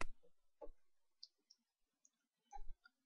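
A few soft, dry computer mouse clicks land sparsely and close up in a quiet room during an online account sign-up, with a faint breathy sound between them.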